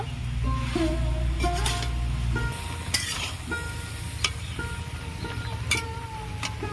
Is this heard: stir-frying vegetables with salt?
yes